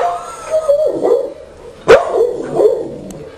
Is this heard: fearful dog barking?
yes